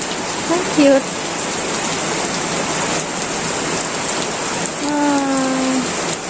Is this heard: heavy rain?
yes